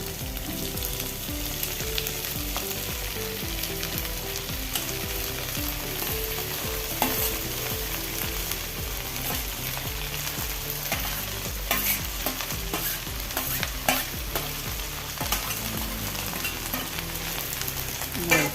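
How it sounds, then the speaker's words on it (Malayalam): Chopped spring onion stalks and onion sizzling in a hot pan as they are stirred, a steady close crackle of frying with frequent scraping stirs throughout. "ഒന്ന് വാടി വന്നാൽ മതി നമുക്ക് സവോള ഉള്ളിത്തണ്ട് വെട്ടി എഴുതി വെച്ചത് ചേർത്ത് കൊടുക്കാം"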